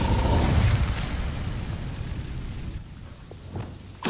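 A burst of fire from the Incendio spell in Hogwarts Legacy flares up loud at the start, then rolls into a long, fading roar before a sharp crackle returns right at the end.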